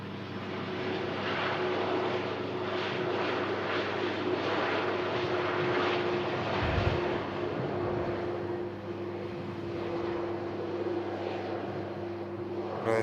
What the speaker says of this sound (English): That huge thrust of power from the RB211s as it decided to take the evasive action.